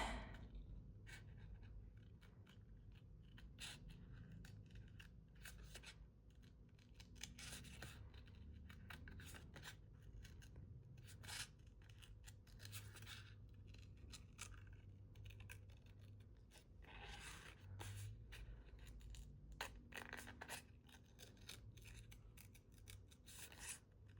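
Scissors cutting paper out of a brown paper bag, a long run of quiet, close snips and rustling paper scrapes in an irregular rhythm, with faint room noise underneath.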